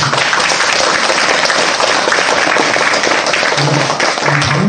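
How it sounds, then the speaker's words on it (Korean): Loud, dense applause fills the hall at a Buddhist monk's Dharma talk, sustained throughout, with faint low voices beneath near the end. "박수 쳐주세요."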